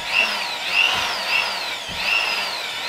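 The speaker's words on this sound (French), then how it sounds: "on a pris la perceuse et on va percer et après visser le néon" A power drill bores holes into a wall to mount a neon sign, its high motor whine rising and falling in repeated bursts as it bites in, loud and close.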